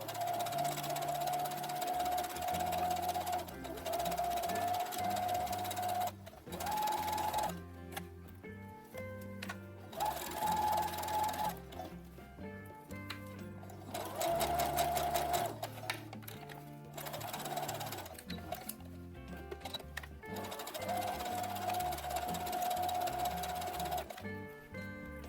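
A sewing machine runs around the sleeve cuff of a Star Wars jumpsuit, stitching in bursts of fast rhythmic ticking. Brief pauses break the runs. It is close and fairly loud, with almost no voice.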